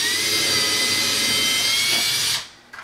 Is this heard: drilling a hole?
yes